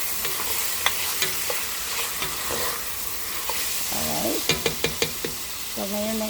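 Ground beef with black pepper sizzles in a pan while a utensil stirs it, with a steady frying hiss broken by sharp scraping knocks and short clatters; a voice briefly surfaces near the end.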